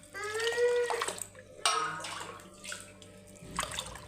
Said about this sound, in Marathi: आता मी यात पाणी टाकणार आहे पूर्ण डाळ भिजेपर्यंत